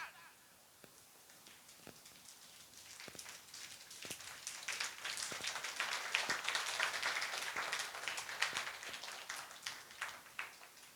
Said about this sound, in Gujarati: જોરદાર તાળીઓ તમારા માટે.